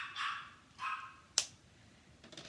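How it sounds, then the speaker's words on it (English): A dog barks two or three times, quiet and somewhat distant, with short yipping tones and a sharp click between them over a low background hiss. "She barks and barks and barks."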